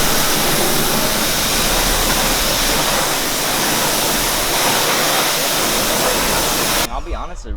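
A pressure washer sprays a car wheel, a loud, steady broadband hiss of water jet running continuously for several seconds before cutting off near the end.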